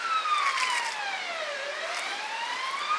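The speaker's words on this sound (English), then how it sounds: "siren going off here in the background." A wailing emergency siren sweeping down and back up in pitch, steady and moderately loud, heard from some distance with no talking.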